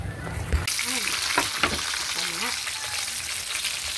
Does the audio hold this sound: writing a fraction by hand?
no